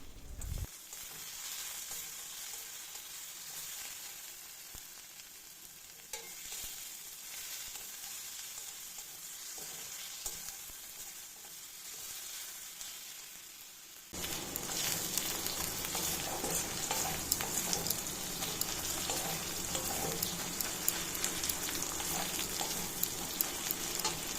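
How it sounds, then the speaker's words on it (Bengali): A ginger, garlic and onion paste sizzles in hot oil, quiet at first, then bursting into a louder, crackling fry partway through that continues steadily. "এই আদা বাটা রসুন বাটাটাকে পেঁয়াজ বাটার সাথে একসাথে আবার কিছুক্ষণ ভালোভাবে ভেজে নিতে হবে।"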